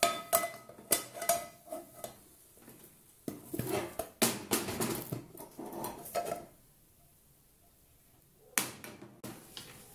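Swiss potato rösti flipped in a frying pan at home, a run of clattering pan and utensil knocks and scrapes in bursts, fairly close, with a quiet pause before a final clatter.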